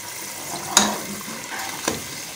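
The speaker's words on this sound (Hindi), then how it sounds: "अब हम मसाले की ग्रेवी भून रहे हैं।" Masala gravy fries in a pan for a kofta curry, giving a quiet sizzle with two sharp spattering bursts as it is stirred, with no voices.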